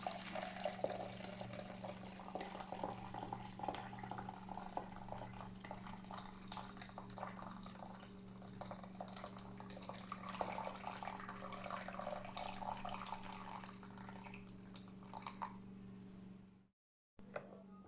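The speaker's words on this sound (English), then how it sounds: "fill it to 1 litre of warm water" Warm water runs steadily from a tap into a jug for making vegetable stock, a continuous splashing gush with a steady hum beneath, stopping abruptly near the end.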